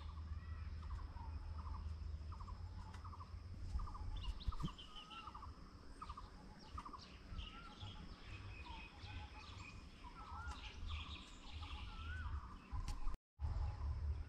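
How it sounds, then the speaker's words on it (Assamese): Several birds call together outdoors beside a river in spring, with repeated chirps and whistled notes at moderate distance over a low hum of insects. No one speaks, and there is a brief dropout near the end. "মানে একেবাৰে 10টামান পক্ষী একেলগে মাত দি আছে"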